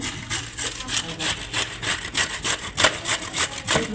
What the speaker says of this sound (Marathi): आता खिसून घेऊया गाजरा आपण